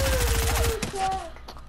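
Gunfire from a Fortnite match: a dense, loud burst of rapid shots in the first stretch, then a sharper single report and fading game effects.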